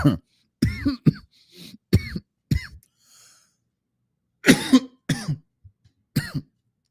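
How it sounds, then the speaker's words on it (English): A man coughs and clears his throat repeatedly into a close microphone, sharp bursts arriving in two uneven clusters separated by a brief quiet pause. "Sorry for all the coughing in the mic."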